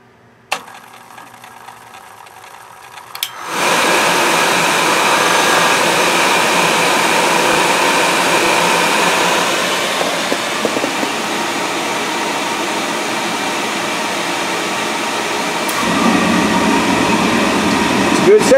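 A Riello oil-fired boiler burner starts after a few quiet seconds with a click, then settles into a loud, steady roaring whoosh of fan and flame that holds for the rest of the clip, with a brief shift in tone near the end.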